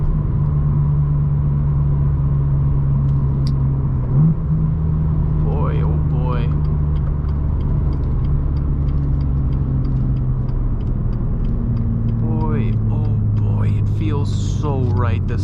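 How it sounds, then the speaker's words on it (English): A 2017 BMW M2 manual engine drones loudly with a rising whistle of a turbo spooling, then crackling pops from the exhaust. A person speaks over the engine. "Oh, the turbo. Oh, and the burbles."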